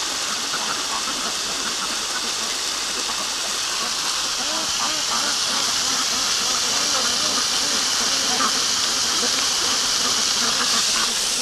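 A hose sprays water hard while a duck pen is washed out, a loud steady close hiss lasting throughout without pause.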